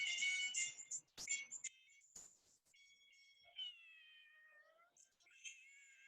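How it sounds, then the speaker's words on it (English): Several soft, rising and falling cat meows sound faintly in a quiet room, spaced out across the stretch with short gaps of near silence between them. "Oh wow, see cat."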